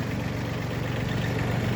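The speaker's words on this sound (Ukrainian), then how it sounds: "Під'їжджає машина до завантаження." A truck's engine idles steadily nearby as it pulls in for loading a Mitsubishi MT165 mini tractor, giving a continuous low rumble with no talk over it.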